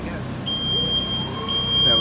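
Steady high electronic safety beep from a scissor lift while working at height installing Cat6 cable runs, a continuous tone sounding throughout under a person talking.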